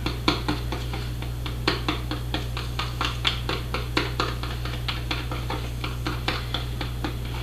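Kenra hair color being mixed in a bowl with a brush or whisk, a steady run of quick close clicks and taps against the bowl over a low constant hum, no talk.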